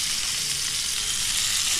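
Tomatoes sauté in a hot pan, giving a dense, even, close sizzle that holds steady throughout the short moment, with no voices.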